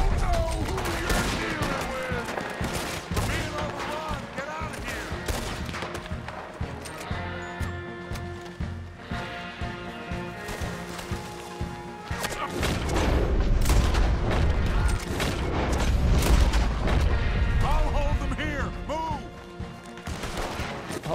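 Rapid gunfire rattles through a Red Dead Redemption 2 shootout, with bursts of shots and heavier booms piling up into a dense, continuous barrage that swells louder in the second half, a voice talking over it at times.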